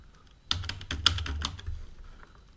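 Close, quick keystrokes on a computer keyboard as a name is typed, a dense burst of clicks lasting about a second with no voices.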